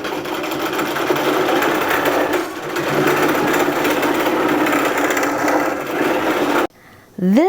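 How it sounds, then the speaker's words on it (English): Automated sewing machine stitching a quilt runs in a steady, close, loud whir for most of the stretch, cutting off abruptly near the end, where a brief voice is heard. "Now I'm going to sew. The machine's going to go back to where it's supposed to be."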